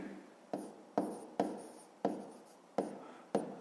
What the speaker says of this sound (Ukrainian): Записуємо в дужках чого гривень.